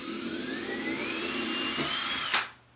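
A power drill whines steadily as it bores a hole into a wall, its pitch slowly rising, then breaks through with a sharp clunk and stops.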